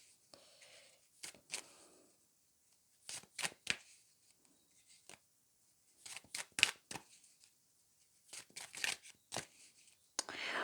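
Tarot cards shuffled in quick riffling bursts, several separate rounds of crisp paper flutter spaced by quiet pauses, close and fairly soft.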